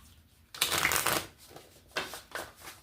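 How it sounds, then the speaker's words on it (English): A deck of tarot cards is shuffled up close, with a long riffling burst followed by two shorter flicking passes in a quiet room. "One more shuffle."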